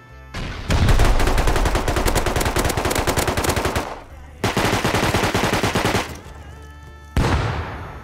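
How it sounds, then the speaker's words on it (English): Loud, close bursts of shotgun trap fire in the video game Rust, with rapid overlapping blasts in three volleys, the first long, the second shorter, and a final brief one. "There is a shotgun trap on that."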